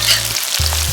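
Dried chilies and scallion pieces fry in a wok as a loud, continuous sizzle. A low steady hum drops out briefly and then returns underneath.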